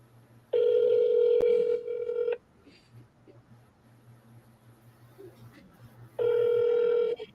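Two bursts of a telephone tone, each lasting a second or two, sound at the start and again near the end, with a faint hum and quiet background noise between them.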